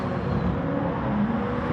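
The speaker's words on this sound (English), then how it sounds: "Oh, those car noises." Race car engines in the video game Gran Turismo Sport, a continuous droning roar of several cars at speed, loud and steady with no talk over it.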